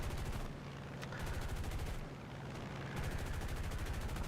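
Aircraft guns blazing in War Thunder during a Hellcat dogfight, rapid sustained bursts of gunfire with a brief lull in the middle, loud and close over engine drone.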